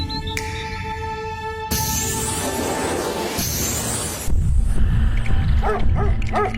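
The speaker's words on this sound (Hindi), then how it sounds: "इस बच्चे को तो कुत्ते भी डरा रहे हैं।" Cartoon dogs bark at a child in an animated haunted story, with a few short, sharp barks near the end over loud, noisy music.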